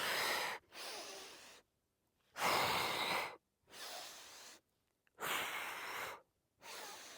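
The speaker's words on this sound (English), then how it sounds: "We're gonna inhale as we pull this one in, exhale as we switch." Breathing in and out during a Pilates single leg stretch, loud close breaths in regular alternating bursts separated by short silences, about six breaths with no talk.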